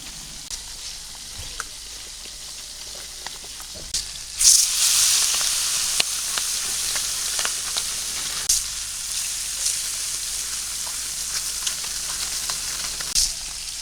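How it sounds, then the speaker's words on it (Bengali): Onion and chili fry in a pan at home with a soft, continuous sizzle. The sizzle swells louder after a few seconds and then holds steady, close and alone. "পেঁয়াজ মরিচও দিয়ে দিলাম"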